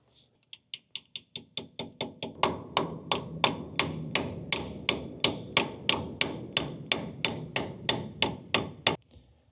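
A hammer taps a razor blade into the leaking axle seal of a 1996 Ford F150. The sharp metallic strikes come close and steady, speeding up from light taps into a run of about two dozen firmer blows.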